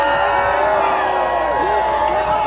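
A crowd of spectators cheers and shouts continuously at a medieval demo fight event, a dense, loud wash of voices and whoops with overlapping talk.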